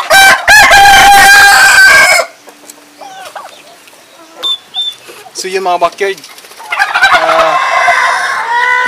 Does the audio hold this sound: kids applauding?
no